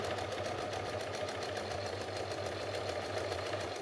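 A sewing machine stitches two ends of a waistband elastic together with a quarter-inch allowance, giving a steady, evenly pulsing mechanical hum that runs without pause at moderate volume.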